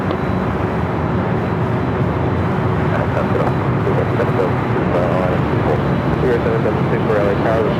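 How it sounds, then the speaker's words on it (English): A Turkish Airlines Boeing 777-300ER from Istanbul at Los Angeles LAX makes a continuous loud jet rumble with a faint steady whine riding over it, unbroken from start to finish. "Turkish Flight 9, the 777-300ER coming from Istanbul."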